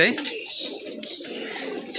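Pigeons cooing close by, soft repeated coos over a background of rustling and movement.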